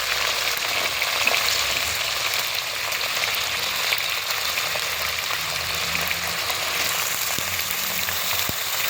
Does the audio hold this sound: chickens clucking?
no